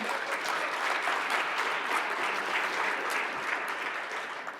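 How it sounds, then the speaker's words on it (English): Audience members at a Huntington's disease family day applaud in a sustained, even roar of many clapping hands that eases off slightly at the end, with no one speaking. "How about a round of applause?"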